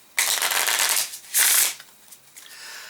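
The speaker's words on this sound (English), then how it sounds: "Shuffle them all back again." One Deck Dungeon game cards are shuffled in two quick riffling bursts, each a dense papery flutter close to the listener, followed by a few faint card taps.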